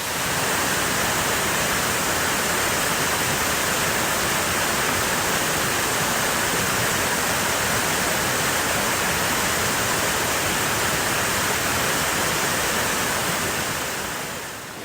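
Constant rushing flow of a creek in the Blue Mountains, Australia, broad and steady for the whole stretch, fading slightly at the very end.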